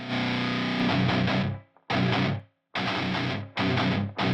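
Heavily distorted electric guitar, with a Pultec EQ boosting the low end, chugs in loud chord bursts, with abrupt stops and short silences between phrases and a full, thick low end.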